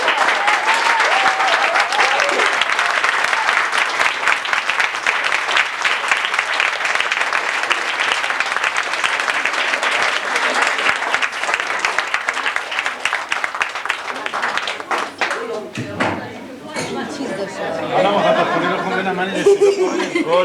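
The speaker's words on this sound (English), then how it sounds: "Can we have a lovely, lovely round of applause for David?" Wedding guests give David a round of applause, loud dense clapping with some chuckles that fades near the end into scattered claps and murmuring voices.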